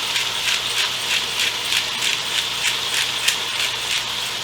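A pepper grinder cracks fresh pepper over a chicken and vegetable sauté, a steady run of rapid ratcheting grinds pulsing about every half second, close and alone.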